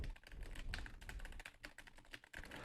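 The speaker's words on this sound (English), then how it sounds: "That was me typing on the keyboard." Close, quiet tapping on a computer keyboard, rapid irregular keystrokes in quick bursts with brief gaps, picked up through a wireless gaming headset microphone.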